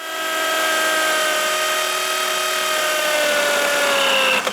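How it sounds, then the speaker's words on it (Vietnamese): A power drill fitted with a wood bit bores into a wooden surface, giving a steady, loud, continuous whine that holds for several seconds before cutting off near the end. "Rồi bây giờ tự tin và khoan ngay bề mặt gỗ cho quý vị cùng xem nè."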